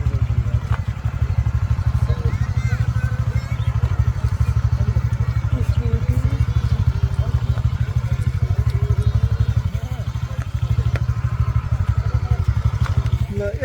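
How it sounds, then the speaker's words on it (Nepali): A scooter engine runs steadily throughout, a continuous low buzzing drone with a little clatter, sitting under loud singing that carries on over it the whole time. "यसै गरी स्कुटर तान्छु म"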